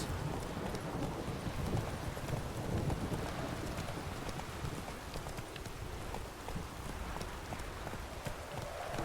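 Horse hooves gallop in The Witcher 3, a steady rapid clip-clop running the whole time under a dense wash of wind- or rain-like ambient noise.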